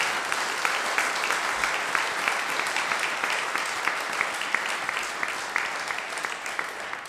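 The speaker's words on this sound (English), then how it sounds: "So can you please join with a clap?" Mourners clap together at a celebration of life service, a warm, steady round of many hands. It holds at an even level throughout, with individual claps standing out against the crowd and no talk over it.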